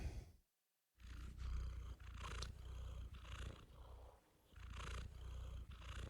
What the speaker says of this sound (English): That's a good cat purr.